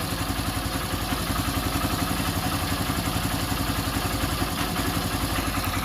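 A motorcycle engine with an overflowing carburetor idles steadily and loudly up close, with a rapid, even mechanical clatter throughout and no voices.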